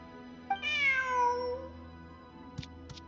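A cat in Genshin Impact gives one clear, drawn-out meow with a falling pitch over steady game ambience, followed by two short clicks.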